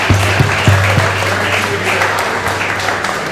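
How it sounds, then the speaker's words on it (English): A gathering honoring a departing boys' ice hockey coach claps steadily, dense and close, with a low hum underneath and a few murmured voices early on. "So let's clap it up one more time."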